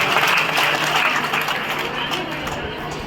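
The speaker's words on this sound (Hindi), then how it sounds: "सबसे पहले तो आपके लिए ताली बजनी चाहिए कि आपका कलश भरा हुआ था।" Steady applause from an audience at a Hindu religious gathering led by a Mahamandaleshwar swami at an ashram, a dense wash of clapping sustained throughout and fading slightly toward the end.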